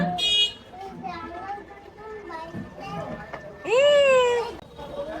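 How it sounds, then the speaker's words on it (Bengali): Two pet cats meow, one short cry at the start and a longer, louder rising meow later, with a person talking to them through much of the scene. "এই যে আমার কুটু বিড়াল দুইটা, কি করছো তোমরা?"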